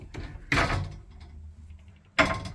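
Wardrobe doors in a hotel room opened with two loud bursts of rattling and knocking, spaced about a second and a half apart, with a quieter low hum and faint creaks in between.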